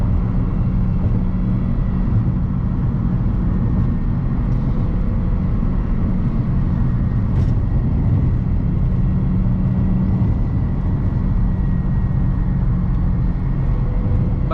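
A BMW E92 M3 cruising in sixth gear below 3,000 RPM, a steady low engine drone with constant road and wind roar heard from inside the cabin.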